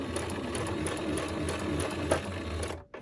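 A sewing machine runs fast, stitching through paper in one continuous whirring burst, up close and steady, with no talking, until it stops abruptly near the end.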